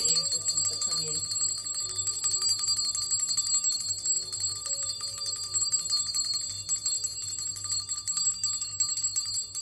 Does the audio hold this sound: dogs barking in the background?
no